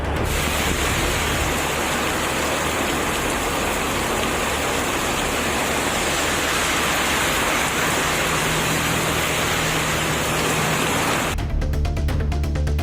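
Heavy evening rain falls with strong wind in Namakkal, a dense, steady roar of downpour filling the whole stretch with no talk.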